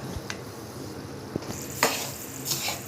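Semolina for rava laddu frying in a pan with a steady soft sizzle, broken by a few sharper stirring scrapes and clinks near the end, close and fairly quiet with no talking.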